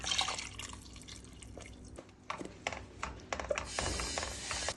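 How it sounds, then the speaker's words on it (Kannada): Water is added to a ground masala paste for channa masala, heard as soft drips and splashes with small clicks and clatter of kitchenware, faint and close, with no talking. "ಈಗ ರುಬ್ಬಿರೋ ಪೇಸ್ಟ್ ಹಾಕ್ತಾ ಇದ್ದೀನಿ. ನೀರನ್ನು ಹಾಕೋಣ."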